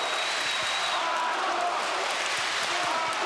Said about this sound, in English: The crowd chanting for Arthur Abraham in the white trunks